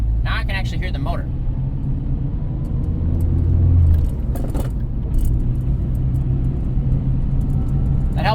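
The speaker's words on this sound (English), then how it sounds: "Now I can actually hear the motor." A 1984 Dodge Mini Ram pickup's engine runs while driving, a steady low rumble that swells briefly midway, with people talking over it.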